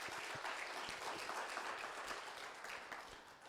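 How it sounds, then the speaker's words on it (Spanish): Church congregation clapping together in a steady wash of applause, moderately distant and fairly quiet throughout, no voices standing out. "Denle un fuerte aplauso"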